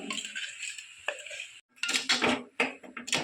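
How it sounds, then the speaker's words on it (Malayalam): A spoon clinks and scrapes against a metal pot as ground paste is stirred into cooking spinach, the close, bright knocks coming in irregular bursts separated by a short silent gap. "അങ്ങനെ കൂട്ടൊക്കെ ഇട്ട് നല്ലപോലെ ഇളക്കി കൊടുക്കാം"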